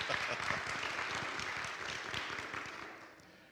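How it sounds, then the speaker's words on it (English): A church congregation applauding after a play, dense clapping from a crowd that holds steady and then gradually fades away over a few seconds. "Let's go ahead and applaud."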